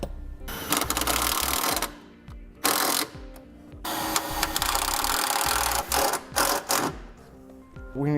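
Self-tapping screws being driven with a power driver to mount a trailer brake controller bracket, giving loud sustained whirring bursts with short pauses between runs, close up and with no talk.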